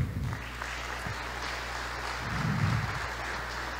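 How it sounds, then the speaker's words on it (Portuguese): A church congregation applauds in a sustained, dense patter of clapping that swells briefly, with a faint voice under it. "Glória a Deus, aplauda Jesus Cristo."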